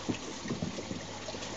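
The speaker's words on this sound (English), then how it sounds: "this is fresh water from the water tanks." Fresh water from water tanks runs into an aquaponics setup, a soft, continuous trickle and splash with faint gurgles, heard alone and fairly quiet.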